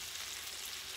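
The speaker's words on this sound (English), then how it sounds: "let that fry on that side for a little bit" Meat for a pot roast frying in a pan, giving a steady, even sizzle throughout one continuous moment, faint and with no talking.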